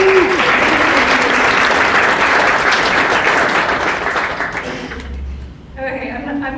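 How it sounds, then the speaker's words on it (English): A meetup audience applauds Adobe, sponsor of a Cincinnati AI gathering, with dense, loud clapping that fills the space and then thins out near the end as a voice begins. "a special round of applause to Adobe"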